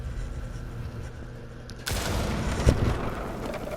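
Shotgun blast in Rainbow Six Siege gameplay: a sudden loud burst partway through, then a sharp crack, over steady game ambience with no talk.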